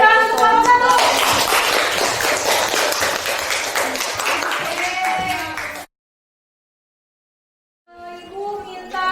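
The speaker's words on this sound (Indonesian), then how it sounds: "Kasih tepuk tangan untuk kelompok 1." Classroom group clapping for a student group after a presentation, a busy patter of hands over chatter and voices that fades to silence, then speech returns.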